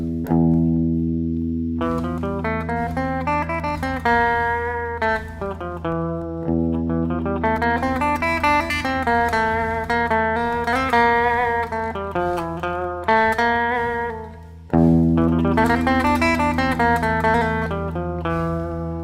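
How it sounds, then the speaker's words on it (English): A dark, unsettled melody winds up and down over a steady low drone, the phrases repeating with a slightly distorted, effected tone. "And Locrian is related to that, but playing it with a drone, it will sound something like this."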